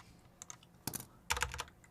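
Someone typing a command on a computer keyboard: a few scattered light key taps, then two quick bursts of clustered keystrokes, close and fairly quiet with no voices.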